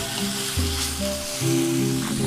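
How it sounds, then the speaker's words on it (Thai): Minced pork stir-frying with chili in a hot pan for northern Thai nam prik ong, a steady close sizzle with brief stirring scrapes and no talking. "เอา หมูสับนะครับ ลงไปเลย คั่วกับพริกนะครับ"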